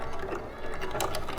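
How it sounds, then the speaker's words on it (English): A sewing machine runs a tiny edge stitch on a four-square bag, a continuous close mechanical whir across the short span with a slight dip in the middle, no voices. "we'll bring it over here to the machine, and we are going to just do a tiny little edge stitch"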